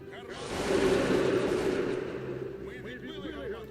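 A dense burst of musket fire and booming cannon blasts in a video game swells and then fades, with a voice speaking in the background.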